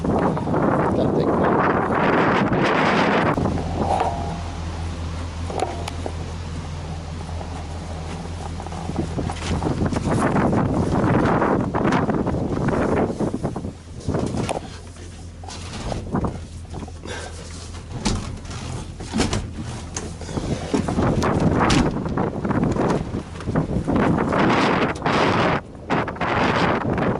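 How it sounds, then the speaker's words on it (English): Outdoor wind gusts buffet the microphone in loud, rumbling bursts that come and go, with people talking at times and faint background hum. "it's that time of year when it's got to be windy all the time"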